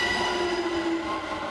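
Approaching train in the video game Maitetsu, a steady metallic rumble with a sustained wheel squeal and hum rolling close and loud, no voices over it.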